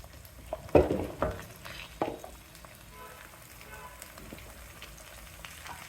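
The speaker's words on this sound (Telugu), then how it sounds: "తరిగి పెట్టుకున్న ఈ గుమ్మడి ముక్కల్ని వేసేయండి" Chopped raw pumpkin pieces hit a hot pan and are stirred while frying for a sweet pumpkin curry: a loud close burst of sizzling and scraping at first, then a quieter steady crackle.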